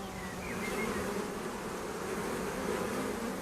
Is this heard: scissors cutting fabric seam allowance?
no